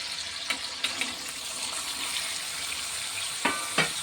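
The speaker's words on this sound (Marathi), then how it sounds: "आपण आता टमाटे आणि बटाट्याचं चांगलं परतून घ्यायचं" Tomatoes and potatoes sautéing in oil for an aamras thali meal: a steady, close frying hiss, broken by a few sharp clinks of a spoon against the pan.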